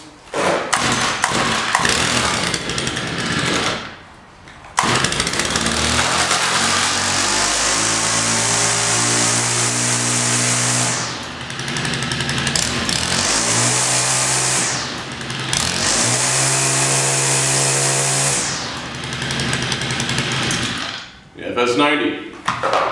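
A Stihl FS 90R string trimmer engine runs loud and close for most of the stretch, its pitch rising and falling with throttle changes, with a brief drop near the start and short pauses later.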